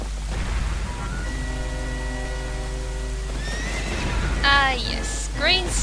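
Horse whinnying in the video game The Legend of Zelda: Ocarina of Time, a long descending neigh followed by two short, sharp snorting whinnies, set against a steady low rumble.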